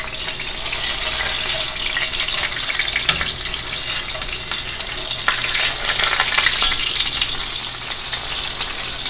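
Tilapia coated in cornstarch frying in grapeseed oil, a loud, steady, crackling sizzle that runs without a break and with no voices.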